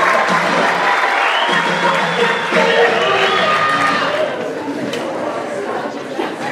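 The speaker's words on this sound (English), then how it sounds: "Let's have a big round of applause for our 2016-17 Director Award winners" An awards-night crowd at a student-athlete ceremony claps for award winners, with steady applause mixed with chatter and some cheering that tapers slightly toward the end.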